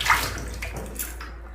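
Water pours from a vessel into marinated goat mutton and chicken pieces sitting in a pressure cooker in a home kitchen, a short close splashing burst, with no talking.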